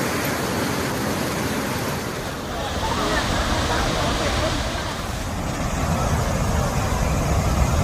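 Devi's Fall in Pokhara, Nepal, where fast water plunges into a tunnel, gives a constant rushing roar that swells and eases slightly, with voices faintly underneath.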